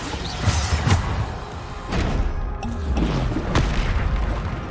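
Repeated heavy Bombardo explosion spells in Hogwarts Legacy, each a deep booming blast with a crackling tail. Three or four loud bursts arrive at roughly one-second intervals over continuous battle rumble.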